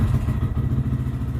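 A 2023 Lifan KPM 200 commuter motorcycle engine runs with a steady, loud, low mechanical chug and rhythmic pulsing, close up and alone, with no start-up catch heard.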